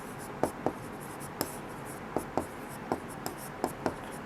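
Chalk or marker writing on a board during a Class 6 maths lesson on fractions, heard as a run of short, sharp taps and strokes spaced irregularly, close by and alone without talk.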